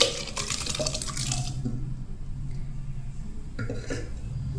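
Cooked toor dal for drumstick mango sambar is tipped from the pressure cooker into a pot for mashing, giving wet sloshing and clinks of metal utensils, busy at first and then quieter with scattered knocks near the end.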